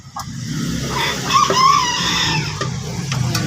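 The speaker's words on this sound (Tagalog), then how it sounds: "ito yung aking manok na nangingitlog" Laying hens clucking, a close, steady stream of low clucks and a brief higher call, heard alone.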